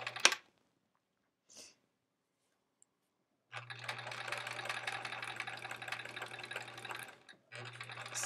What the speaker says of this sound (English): Sewing right on that line still.